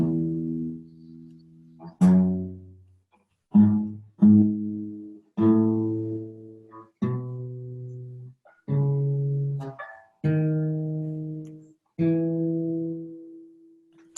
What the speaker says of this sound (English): Now, major scales sound like this.